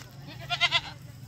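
A Rajanpuri goat gives one short, quavering bleat, fairly close but quiet, over a low background hum.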